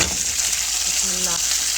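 Tomatoes hiss and sizzle loudly as they hit hot oil in a pan, a dense, steady frying sound up close.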